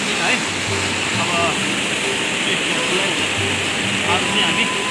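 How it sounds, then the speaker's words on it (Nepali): A mountain stream or river rushes steadily, close and loud, with faint voices in the background. "ल खोला यही हो साथीहरु"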